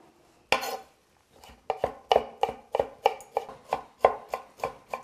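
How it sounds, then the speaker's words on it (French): A knife roughly chops fresh samphire on a cutting board, one sharp opening strike followed by a run of about a dozen crisp, evenly spaced chops, close and clear with no talking. "Je vais pouvoir maintenant les couper. On va les couper grossièrement."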